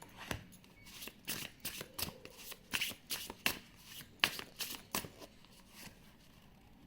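A deck of tarot cards is shuffled close up in quick, crisp riffling bursts, with cards flicked and drawn in an uneven rhythm against a quiet background.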